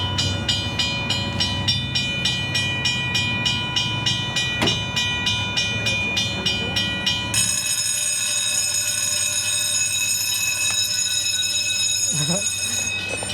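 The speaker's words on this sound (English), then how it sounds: "Whenever I hear that bell, it reminds me of like a carnival game." Warning bell at the Fremont Bridge as the drawbridge opens, ringing in a rapid, steady repeating pattern for several seconds before a brighter sustained alarm tone takes over, heard alongside outdoor traffic noise.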